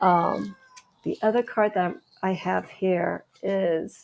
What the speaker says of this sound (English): I'm sorry if you hear my cat in the background